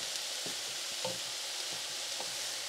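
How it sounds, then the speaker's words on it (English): Cabbage sizzles in a pan while cooking down for an egg roll bowl, a soft steady fry with a few light stirring scrapes at regular intervals and no talking. "we're going to keep cooking this down until the cabbage reaches a consistency that we like"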